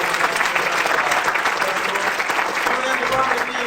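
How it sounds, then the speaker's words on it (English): Theater audience applause at a dance event in New Mexico: steady, dense clapping from a large crowd, fairly loud and close, sustained throughout with no pauses. "Keep clapping because I do want to announce a couple of the co-sponsors."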